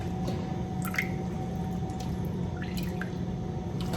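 Soaked raisins pressed with a small kitchen tool to squeeze out extra water for oatmeal raisin cookie dough, giving a few soft wet squishes and drips over a steady background hum, close and quiet.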